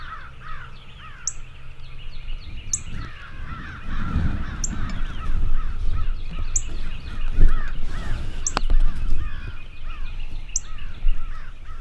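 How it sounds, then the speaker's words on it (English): Several crows caw repeatedly in Georgia woods, their harsh calls overlapping in a steady racket at moderate distance over low rumbling background noise. "the crows started making a little racket"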